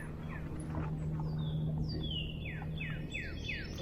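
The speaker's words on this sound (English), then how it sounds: "so you heard so many different birds in the morning" Several birds chirp and trill in the morning at a campground by a Florida state park, over a steady low background hum, with a run of repeated descending whistles near the end.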